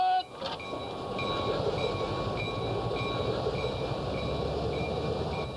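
A rebuilt 1910 passenger railcar, cooled by ice, rides the rails with a steady, full rumble of wheels and running gear. Faint tonal squeals run through the rolling noise, with a brief clatter right at the start.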